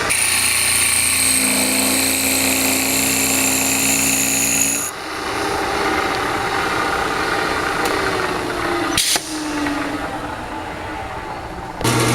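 A baseball bat cupping machine hollows out the end of a wooden bat with a loud, continuous motorized whine that shifts to a rougher, lower grinding tone partway through, punctuated by a couple of sharp knocks.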